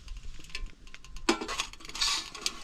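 A metal pot of water clanks down onto the top of a wood stove, one sharp contact followed by light scraping and clinking as it settles, close and fairly quiet with no talking.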